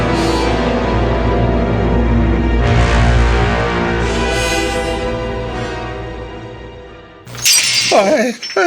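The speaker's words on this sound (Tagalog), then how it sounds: "ano po yung nabasag dito sa kusina? ang baso, Floro." A drinking glass drops onto a kitchen floor and shatters with a sharp, loud crash near the end, following a long stretch of sustained droning background sound.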